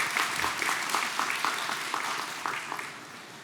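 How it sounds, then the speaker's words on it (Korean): A church congregation at a Sunday worship service claps in welcome, with moderately faint applause that has a distinct pulsing rhythm and gradually fades. "일어나시면 우리 박수로 환영하도록 하겠습니다"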